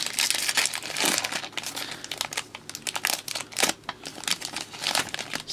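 Foil Pokemon TCG Evolutions booster packs being torn open and handled, loud crinkling and crackling bursts in irregular close-up rustles with short pauses between.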